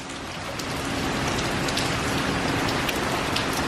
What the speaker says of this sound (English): If you watch that rain, it's coming in sideways.